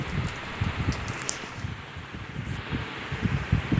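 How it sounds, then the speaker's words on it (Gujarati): Unseasonal rain falling in Kutch, a continuous close patter and hiss of drops with gusty rustling bursts, with no voices. "વરસાદી માહોલની સાથે વરસાદ પડી રહ્યો છે"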